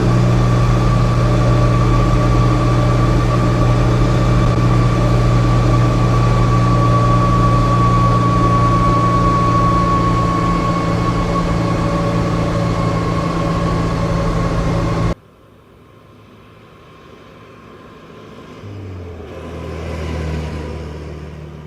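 A Pinzgauer 6x6 Steyr Puch military utility vehicle drives with a loud, steady engine drone and whine from inside the cab, then cuts off abruptly, and a quieter rumble builds toward the end.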